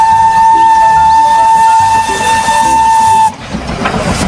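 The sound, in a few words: toy train steam whistle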